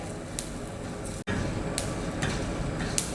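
Sesame seeds dry-roasting in a pan with little oil, a steady soft crackling sizzle with a few scraping stirs, broken once by a brief dropout.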